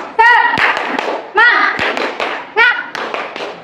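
Children in a fourth-grade classroom perform the tepuk semangat clapping chant, sharp rhythmic hand claps in quick clusters mixed with loud shouted voices chanting along.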